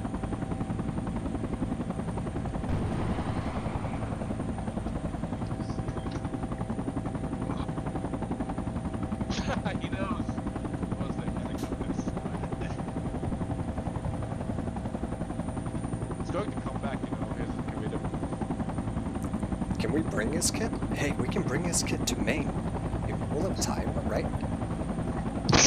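Helicopter in the military shooter game Project Reality, a steady loud rotor and engine drone throughout, with occasional gunfire bursts and voices talking over it.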